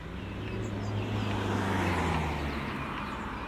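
Road traffic passing at moderate distance, a swelling engine rumble of a vehicle going by over continuous roadway noise, no talking.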